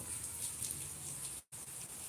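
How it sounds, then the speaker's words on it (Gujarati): Steady rain falls over Akala village at dusk, a continuous even hiss of drops with no voices, broken by one brief dropout near the end. "અકાળા ગામની અંદર વરસાદ ચાલુ છે"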